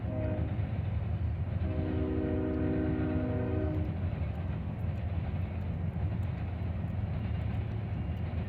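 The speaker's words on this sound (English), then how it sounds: "Got 2 newer locomotives running elephant style, hauling a unit tank train" Freight unit tank train hauled by two newer locomotives running elephant style, rumbling past near a rail diamond crossing; a steady heavy low roar and clatter of cars throughout, with a loud horn blast sounding in the first half.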